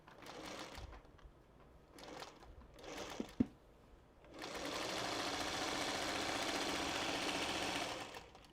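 A sewing machine stitches small quilt half-square triangles. A few soft handling bursts and clicks come first, then the machine runs in a steady, continuous whir for several seconds, close and fairly quiet.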